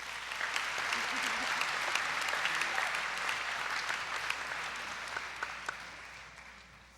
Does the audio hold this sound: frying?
no